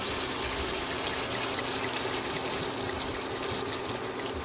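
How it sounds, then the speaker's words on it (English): White wine poured into a hot pan of cooked chorizo and beef gives a steady, loud, broadband hiss and sizzle that runs continuously throughout, with no talking. "So we're going to go ahead and pour some white wine in there."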